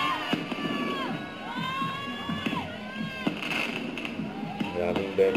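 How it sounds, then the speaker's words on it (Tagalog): Birthday fireworks display crackling and bursting in bright pops, with whistling rising tones streaking over a crowd that cheers and shouts, children's voices among them, people talking throughout. "May fireworks display pa."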